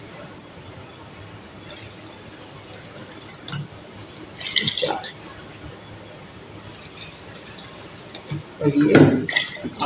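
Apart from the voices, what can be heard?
bowls of water poured into pot for aloo pulao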